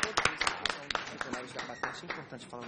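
Scattered clapping from a small audience applauding Professor Otaviano at a talk on synthetic phosphoethanolamine for cancer treatment, a few quick claps mixed with people speaking nearby.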